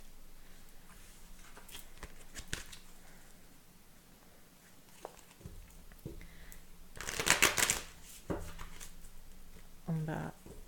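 Tarot cards shuffled by hand in fits and bursts, a loud riffling flurry near the middle and a shorter one at the end, with quieter card handling between, close up and without speech.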